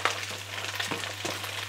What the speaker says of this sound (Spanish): A una temperatura alta vamos a cocinar hasta que se dore la carne.